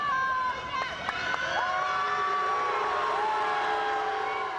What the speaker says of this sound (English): those are protesters booing Michael Vick as he appeared at court